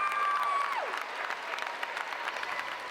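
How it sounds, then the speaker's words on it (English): Soccer fans in a stadium at a women's professional championship final applauding as a player gets back up, a broad distant wash of crowd clapping, with a brief falling whistle-like tone at the start. "Fans applaud as she gets back to her feet."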